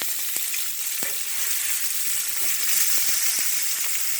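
Burger patties frying in a pan in a home kitchen, a steady bright sizzle and hiss with a few soft scraping clicks, close and continuous, no voices.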